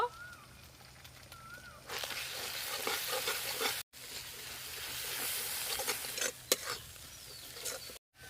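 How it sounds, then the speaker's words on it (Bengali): Spice paste goes into a pan of fried onion and ginger with a splash of water for a fish curry, setting off a loud, steady sizzle with scraping stirs and brief pauses. "এবার মশলার পেস্টটা দিয়ে দেব।"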